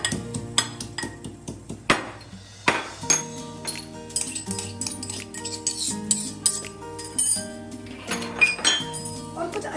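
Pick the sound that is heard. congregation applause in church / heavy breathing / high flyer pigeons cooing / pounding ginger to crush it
pounding ginger to crush it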